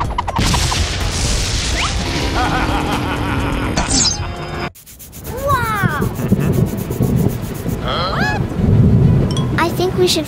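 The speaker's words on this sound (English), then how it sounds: "should find shelter from the rain." Loud thunderstorm with heavy rain, a constant roar of downpour with a booming crash, then a sudden drop and rebuild with a cartoonish voice and whistling sounds layered over it.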